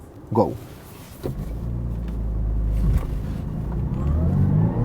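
2-litre four-cylinder Audi A7 with an S-Tronic gearbox pulling away, engine rumble building steadily as it accelerates, with a brief shift-like dip early on, heard from inside the car.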